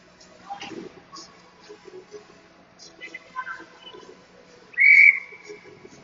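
Referee whistle at a youth U14 hockey game in an arena, one loud sustained blast near the end, preceded by scattered rink noise and voices.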